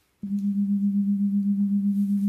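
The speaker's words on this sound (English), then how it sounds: "Hear that little difference? That's the key to binaural beats." A steady low binaural beat hum starts abruptly and holds, with a slow, regular pulsing wobble in its loudness, alone in quiet.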